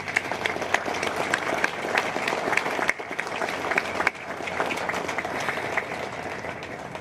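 Sustained applause from an assembled audience at an anniversary event honoring first responders, dense and steady for seven seconds with brief dips, a roomful of hands clapping without speech.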